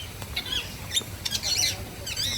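Parrots at KL Bird Park give a few sharp, raspy squawks and short chirps against faint background murmur, moderately close and brief.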